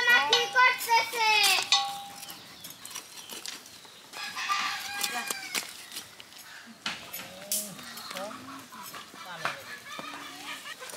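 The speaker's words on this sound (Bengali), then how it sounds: "অনেক বড় ছিল মোরগটা" A large rooster at a village pitha winter cake festival in rural Bangladesh crows loudly at the start, followed by clucking and close chatter from people talking nearby.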